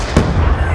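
A grenade bursts in the Call of Duty Black Ops 2 video game, giving a single sharp, loud blast that rolls into a brief rumbling decay, heard close without any talk.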